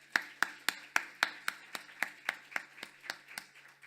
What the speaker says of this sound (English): if we can just have a quick round of applause for those people who actually did the work to put this together